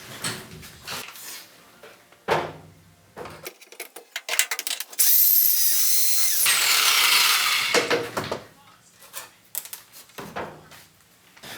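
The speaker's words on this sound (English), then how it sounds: "just got that rivet drilled out" A power drill bores out a rivet on a camper door frame, one loud sustained whine of about two seconds, close by, set among clattering handling noises from tools and parts before and after.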